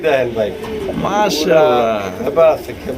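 Pigeons coo in soft repeated throaty phrases close by, mixed with someone talking over them.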